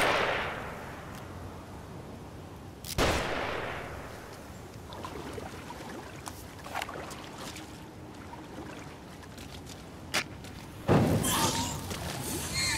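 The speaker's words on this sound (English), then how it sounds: "Find cover. They're shooting." Gunfire in The Evil Within horror game: sharp broadband cracks at about 3 and 11 seconds, with smaller pops between, over a steady rumbling ambience.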